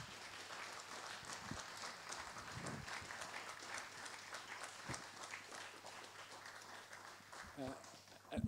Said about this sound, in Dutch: Heel hartelijk applaus voor ons fantastische panel.